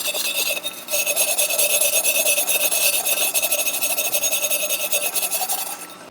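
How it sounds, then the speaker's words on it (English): Steady, loud scrubbing of a cast iron pot cleaned with apple cider vinegar, a continuous raspy rubbing that runs for several seconds without pause. "What we're going to do is take a look at it and give it a scrub"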